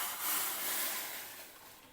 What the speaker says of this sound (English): The water is boiling well now.